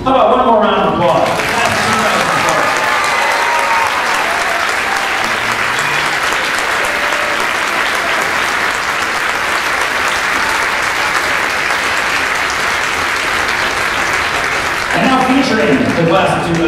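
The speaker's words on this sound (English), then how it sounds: "How about one more round of applause?" A school graduation audience gives a long, loud round of applause, dense clapping sustained for many seconds, with a voice speaking briefly at the start and again as it fades.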